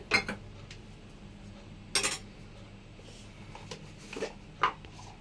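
A steel bowl and utensils clink a few times in sharp, scattered metallic taps against a quiet background.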